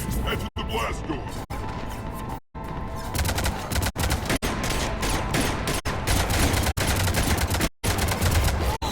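Dense, continuous bursts of heavy cannon fire with booming blasts in the video game Mass Effect 3, loud and close, running almost the whole time with only brief gaps.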